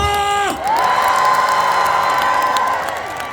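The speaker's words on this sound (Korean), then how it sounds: "중간에 계신 여러분들까지 다 같이 박수와 함성!" At an outdoor daily concert at the Boseong Green Tea Expo, a crowd claps, cheers and whoops in a sustained, loud swell over ringing musical tones. The noise eases slightly toward the end.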